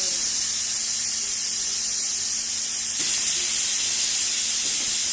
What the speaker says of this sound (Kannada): So 2 whistle ಕೂಗಿಸ್ಕೋಬೇಕಾಗಿರೋದು.